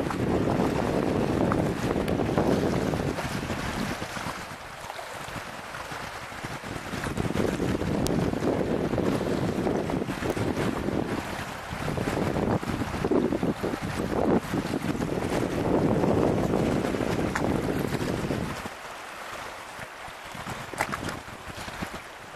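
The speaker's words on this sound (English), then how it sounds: "You can just feel the power of this water." Oil Creek surges powerfully in January cold, a loud continuous roar of rushing water with gusty wind buffeting the microphone in waves, easing briefly near the end.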